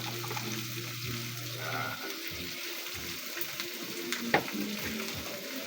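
Vegetables sauté with fried ingredients in a pan, giving a soft continuous sizzle with light stirring scrapes and a brief clink near the end, fairly quiet and without talk.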